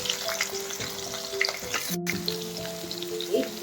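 Chopped onion goes into hot oil already holding bay leaf, cardamom and cinnamon, sizzling and crackling steadily at close range with light stirring scrapes throughout, no voices over it.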